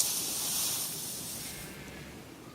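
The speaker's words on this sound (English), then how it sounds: "Cooling the metal by quenching it in water also makes it harder and ready for action." A hot sword is quenched in water, producing a sharp, loud hiss of steam that starts strong and fades gradually over a couple of seconds, with no voices.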